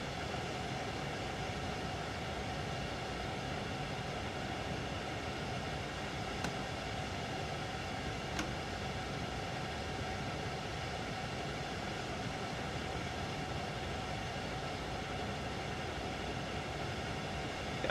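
A train in a railway simulator game runs with a steady, unbroken rumbling drone, a dense and constant roll with a couple of faint clicks and no talk over it.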